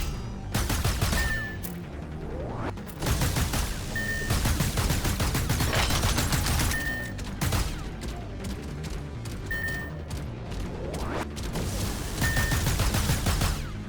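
Bursts of SMG gunfire in the action strategy roguelike Dust Walkers come in repeated rapid volleys, loud and sharp, with brief pauses between them.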